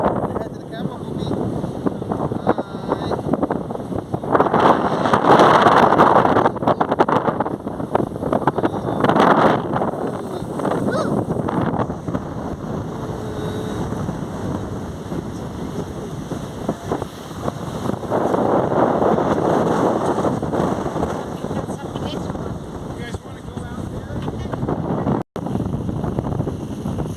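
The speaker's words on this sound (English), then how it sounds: "it's a windy day" Wind gusting on a beach on a windy day, a continuous loud rushing buffet across the microphone with stronger surges, and people talking over it.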